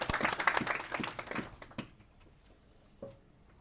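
A round of applause from an audience at a FOSDEM developer room talk, lively clapping for about a second and a half that quickly thins out into scattered claps and near silence.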